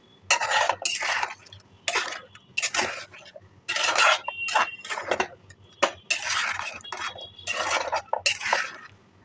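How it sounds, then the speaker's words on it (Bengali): Chicken with yogurt and sugar is stirred in a pan, with a spoon scraping and clanking against the metal in steady, repeated bursts, close and fairly loud. "দিয়ে একটু নাড়াচাড়া করে নিলাম চিনি দিয়ে"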